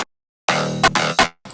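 A loud EDM drum fill built in FL Studio 20, with a dense, bright wash broken by sharp accented hits near the end, then a short quiet gap and a brief final burst.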